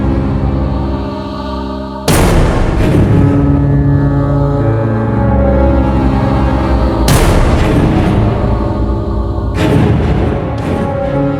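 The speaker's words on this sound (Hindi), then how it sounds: "कहीं लगा आसपास गोली चली है, आवाज लगता है उस दिशा से आई है" Heavy booming shots ring out, two or three loud blasts with long echoing tails under a constant low rumble.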